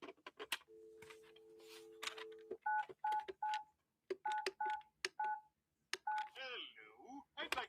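Touch-tone telephone dialing: a long dial tone, then a quick series of short DTMF beeps in irregular clusters, close and clear, with brief voices talking near the end.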